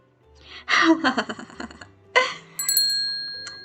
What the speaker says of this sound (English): The bell on the door of the cafe rings again